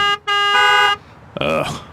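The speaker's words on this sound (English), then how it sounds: "We can hear a number of other cars honking angrily nearby." Car horns blare angrily close by on the street outside a limousine, with sustained honks filling the first second before a brief pause and a voice speaking.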